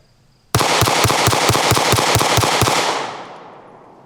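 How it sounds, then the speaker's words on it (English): A pistol fires a rapid string of about ten evenly spaced, loud, close shots, then the echo rings out and fades into the background. "All right, 10 more rounds. Let's just see how fast we can shoot them."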